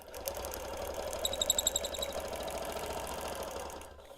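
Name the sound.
sewing machine stitching a quilt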